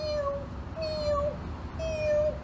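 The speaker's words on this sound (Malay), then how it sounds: "Anak kucing itu berbunyi seolah-olah mengucapkan terima kasihlah kawan-kawan" A kitten meows three times in quick succession, thin high drawn-out cries with a slight falling ending, close and clear over faint background hiss.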